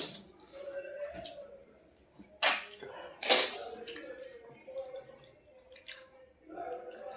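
Two short, sharp sneezes burst out close by during a 1 kg egg biryani eating challenge, set among soft speech and quiet eating sounds.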